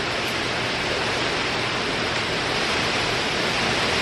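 A strong storm wind gust roars as a loud, dense, steady rush, like heavy air hitting the microphone for the whole stretch, with no voices.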